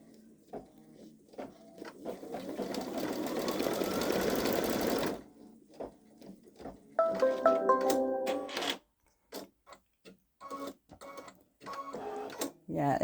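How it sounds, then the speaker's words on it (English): A Babylock Solaris embroidery machine stitches in close, busy bursts: a dense whirring run, a pause, then a tonal chiming passage and choppy stop-start stitching with clicks. "This is probably only going to stitch a tiny bit from what I can tell."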